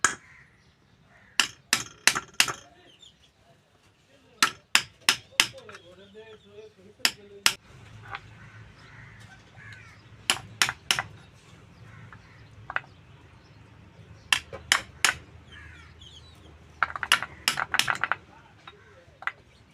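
Sharp metallic hammer taps strike a stand mixer motor being rewound, coming in irregular bursts of single and paired knocks with quiet pauses between, while a voice speaks softly in the background.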